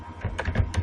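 Quick bursts of computer keyboard keys clicking as a web address is typed, close and crisp with no voice.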